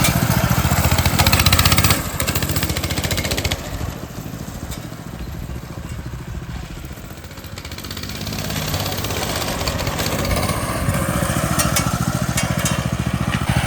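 A mini bike's small engine running rough with the choke on, a steady loud buzzing drone with uneven, sputtering texture that dips briefly in the middle before picking back up, no talk over it.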